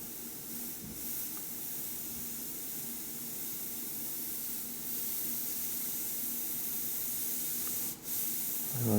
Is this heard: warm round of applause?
no